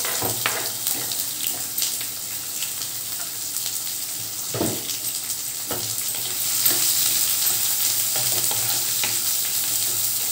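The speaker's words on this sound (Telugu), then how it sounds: "స్టవ్ ఫ్లేమ్ని కొంచెం మీడియం ఫ్లేమ్లో పెట్టుకొని అప్పుడు వీటిని ఉల్లిపాయ ముక్కలు వేయించుకుంటే నిదానంగా వేగుతాయి." Chopped onion pieces fry on medium flame in a tempering of mustard, cumin, chana and urad dal, a steady close sizzle broken by several stirring scrapes and clatters of the spoon, the frying growing slightly louder toward the end.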